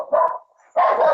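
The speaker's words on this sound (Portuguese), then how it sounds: "Tira o cachorro da sala." Dog barking inside a classroom during a lecture: two loud, close barks separated by a short pause, with no talking during them.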